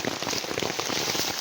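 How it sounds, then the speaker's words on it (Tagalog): Heavy rain pours down steadily and loudly in a dense, continuous hiss during an outdoor mushroom hunt, with no voices. "Malakas na yung ulan, mga kababalyan,"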